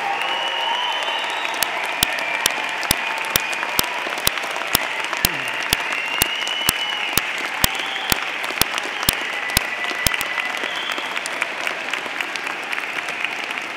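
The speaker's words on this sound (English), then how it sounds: "join me in applauding the amazing graduating class of" A large audience at a Simon Fraser University fall 2017 convocation gives sustained, even applause to the graduating class, with sharp regular clicks ticking through the crowd noise.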